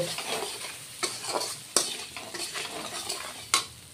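Chapila fish frying in a pan with Kashmiri red chilli powder, a steady close sizzle broken by several sharp stirring scrapes and clacks of a spoon against the pan.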